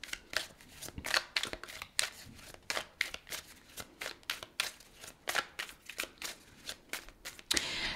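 Tarot cards shuffled and drawn in a quick run of crisp riffles and slaps, close and steady with no talk.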